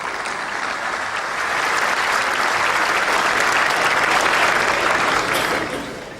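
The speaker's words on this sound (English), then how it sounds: "Let's give a warm round of applause for Craig Shanklin, please." Audience at a golf event greets the moderator with steady, dense applause that swells slightly midway and fades toward the end, no voices over it.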